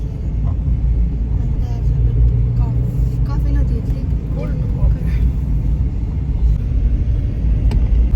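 A car's engine rumbles low and steady as it is driven by a first-time driver, with people talking inside throughout.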